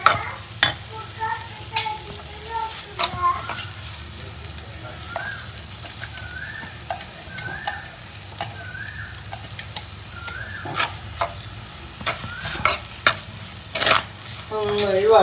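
Chopped garlic and onion frying in oil, a busy crackling sizzle with repeated scraping and stirring clinks against the pan, up close, while a person talks over parts of it.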